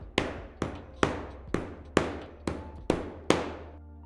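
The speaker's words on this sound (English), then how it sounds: "once again, go along with your hammer and pound them in flush" A hammer pounds T-nuts flush into wooden drawer jambs of a Tacoma pre-cut kit build, seven loud, ringing blows at a steady, even pace, close by and with no talk.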